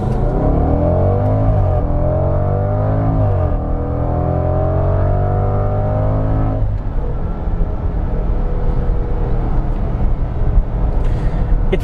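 A Range Rover Velar SV Autobiography SUV in sport mode launches hard from a brake-held standstill, its engine rising in loud, rising revving sweeps through several gear changes before settling into a steady rushing roar as it accelerates away.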